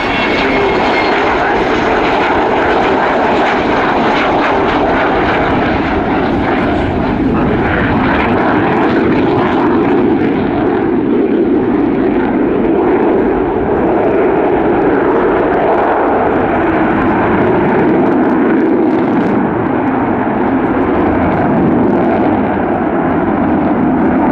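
A loud Avro Vulcan XH558 jet bomber roars continuously overhead at an airshow, undercarriage retracting, a broad sustained rumble and whine that swells and shifts slightly as it passes.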